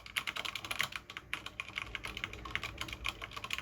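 Rapid typing on a keyboard with Cherry MX Speed Silver switches, a dense, close stream of light clicks and clacks at a fast, even pace, without talking.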